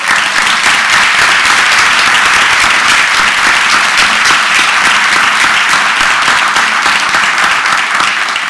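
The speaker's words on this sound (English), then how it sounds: "Let's give them a round of applause." A school board meeting audience applauds high school student authors: loud, dense clapping that holds steady throughout, filling the room with no break or voices on top.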